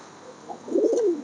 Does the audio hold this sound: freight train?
no